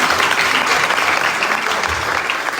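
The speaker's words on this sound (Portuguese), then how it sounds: "Estava doida para aplaudir, né?" A chapel audience breaks into loud, sustained applause, a thick and steady roar of many clapping hands close by.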